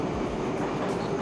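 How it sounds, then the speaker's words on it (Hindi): Old metro train moving through an old-style Russian station, a steady loud rumble and rolling wheel noise close by with no pause. "सामने से मेट्रो निकल गई"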